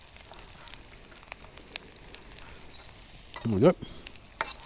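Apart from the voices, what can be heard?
fish pieces frying with parsley and basil, Mediterranean stir fry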